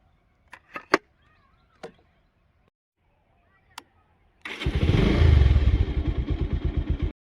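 A motorcycle engine starting after a few clicks and knocks, then rumbling loud and close in a steady pulsing idle that begins to rev.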